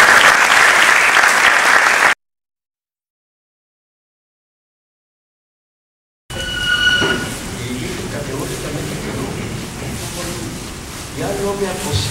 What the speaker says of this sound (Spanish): Por favor, un fuerte aplauso para el doctor.